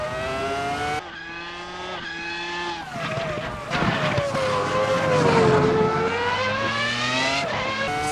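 Formula car with a 3-litre V10 in Assetto Corsa, a high-pitched engine wail that shifts up through the gears and sweeps in pitch, loud and close throughout, with no speech.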